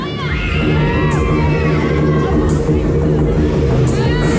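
Passengers on the Extreme fairground ride at Hereford May Fair scream and whoop loudly and continuously over pounding ride music, with crowd shouting mixed in.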